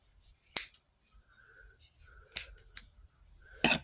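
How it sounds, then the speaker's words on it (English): Scissors snip the ends apart in a few sharp, crisp clicks, spaced irregularly and close by in a quiet room, with faint rustling between cuts and no talking. "you're just going to go and cut the ends apart on each side"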